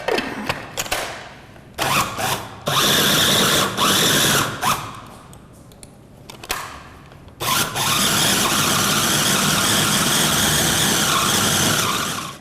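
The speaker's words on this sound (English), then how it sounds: "then you're ready to blend it all up" A blender whirring loudly as it blends dates into a thick date paste for raw chocolate pecan turtles, running in several bursts with short pauses, the motor straining and whining before a long continuous run at the end.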